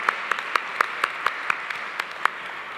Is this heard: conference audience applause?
yes